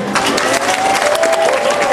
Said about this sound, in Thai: ขอเสียงปรบมือต้อนรับ พี่เชียร์ครับผม